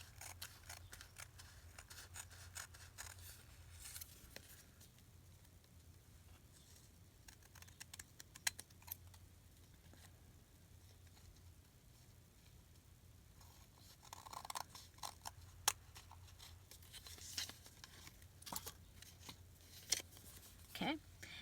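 Scissors snip paper for a woven junk journal wallet insert, with quiet scattered clicks and cuts up close over a low room hum, brief handling rustles, and a person talking softly at times.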